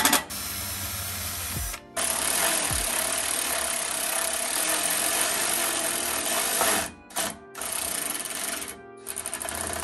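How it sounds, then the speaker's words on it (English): Power drill boring a small pilot hole for a self-tapping screw during a grille and oil cooler install on a Honda Civic Type R FK8, a steady loud whine running for several seconds with brief pauses near the end. "we did a pilot hole with the drill bit"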